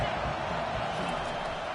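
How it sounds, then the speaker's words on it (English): Crowd roar on third down in the NCAA 25 college football video game, a dense, steady wash of stadium noise that stays loud and close for the whole moment with no break. "Decibels rising as the crowd gets behind this defense on 3rd down."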